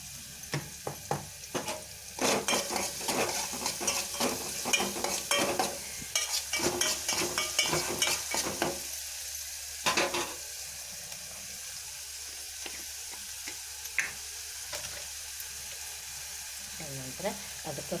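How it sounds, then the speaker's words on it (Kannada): Onions frying in a little oil with a pinch of salt, a soft sizzle with bursts of stirring and scraping and some watery clatter, loudest early and quieter later. "ಈಗ ಚಲೋತ್ನಾಗ ಒಂದು ಸ್ವಲ್ಪ ಎಣ್ಣೆಗೆ ಫ್ರೈ ಆಗ್ತವೆ"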